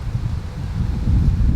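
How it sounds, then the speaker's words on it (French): Gusty wind buffeting outdoors in nature, a low rumbling roar with rushing, uneven surges that strengthen toward the end, close and fairly loud. "s'il vous plaît, le vent, laissez-moi tranquille 2 secondes"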